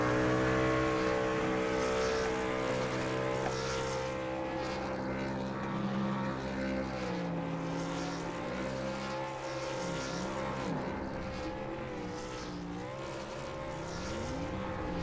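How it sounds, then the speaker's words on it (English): A race truck performs victory burnouts at Nashville Superspeedway, its engine droning and revving with wavering pitch at a moderate distance, blended with broad crowd-like and tire noise, steady in level without speech. "Joe Robert renewed his victory burnouts here"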